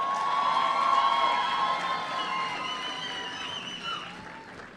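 Graduation ceremony crowd at Daystar University applauds and cheers for student leaders, a dense sustained wash of clapping with scattered whoops, gradually fading slightly.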